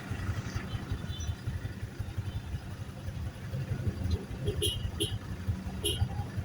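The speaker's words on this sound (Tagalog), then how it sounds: "Sobrang traffic ngayon." Cars and motorcycles idling in heavy traffic, a faint rumbling mix of low engine hum and clatter with occasional brief higher noises, distant rather than close.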